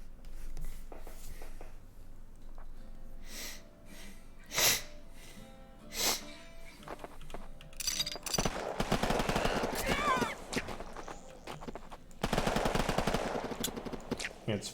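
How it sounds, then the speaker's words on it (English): Rapid automatic gunfire from a weapon in a biopunk video game under development, dense bursts of fast repeating shots that swell and continue, with a few scattered clicks and muffled sounds before them. "It's firing too fast for it to actually play the animation"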